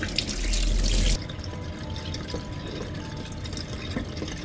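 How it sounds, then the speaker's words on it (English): Tap water runs steadily while natural 4C hair is wet in sections, a loud gush at first that drops to a softer, continuous trickle and splash. "This is step one, where I wet the hair."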